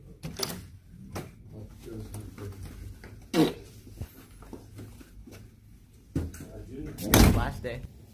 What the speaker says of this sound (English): Oh wait, close the door again.